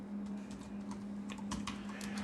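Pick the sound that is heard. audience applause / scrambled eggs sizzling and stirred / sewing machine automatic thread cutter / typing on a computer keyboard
typing on a computer keyboard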